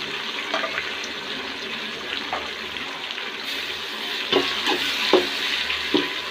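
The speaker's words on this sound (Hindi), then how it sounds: "प्याज ब्राउन हो चुका है, और अब इसमें ये टमाटर डालेंगे।" Tomatoes go into browned onions frying in a pot, giving a steady sizzle with a few sharp spoon scrapes and stirring knocks toward the end, close and continuous without talk.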